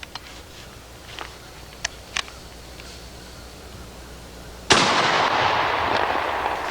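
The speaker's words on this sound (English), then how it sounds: "And now let's take one of the field loads, high-powered field load, I might add. Shoot the third target." A shotgun firing a high-powered field load at a target outdoors: a sudden loud blast with a long ringing tail, after several faint clicks and knocks.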